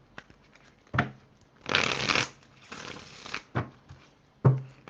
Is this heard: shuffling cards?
yes